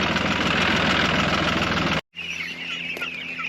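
A loud tractor engine rumbles steadily for two seconds, then cuts off abruptly; afterward a quieter low hum continues with faint duck calls on a homestead.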